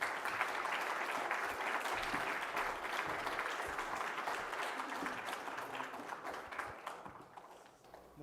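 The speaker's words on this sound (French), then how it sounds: "Je vous demande d'applaudir Harish" An audience at a film festival closing ceremony applauds in a steady, fairly faint, dense round of clapping that tapers off near the end.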